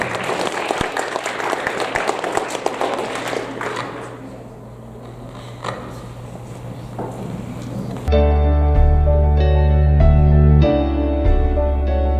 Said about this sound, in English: round of applause for these amazing scholars